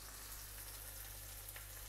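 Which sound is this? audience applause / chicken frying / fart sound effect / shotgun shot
chicken frying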